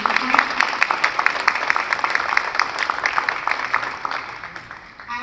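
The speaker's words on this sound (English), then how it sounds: "please let's give a round of applause to the candidates and our moderator" An audience at a Boston mayoral candidates' forum in Morning Star Baptist Church claps in a sustained round of applause that thins and fades toward the end.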